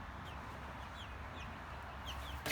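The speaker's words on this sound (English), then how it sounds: "And so you can see these are the bigger chickens." Several-week-old chickens give a few faint clucks and chirps over steady background hiss, soft and scattered, with no talk over them.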